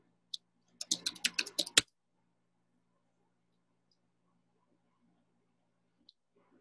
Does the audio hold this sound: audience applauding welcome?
no